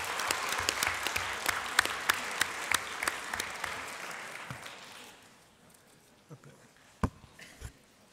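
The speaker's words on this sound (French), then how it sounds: "Je vous propose de les applaudir." An audience at a formal assembly session claps for honourees, dense applause for about five seconds that then thins to a few scattered claps and isolated sharper hand claps.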